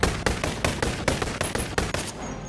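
Rapid bursts of gunfire from the VR shooter Boneworks, a string of sharp shots at irregular intervals over about two and a half seconds, loud and close, with no talking.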